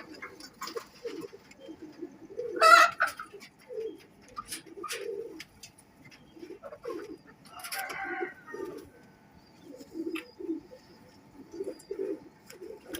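Pigeons cooing softly in repeated low calls close by, with light scuffling and patter between the coos.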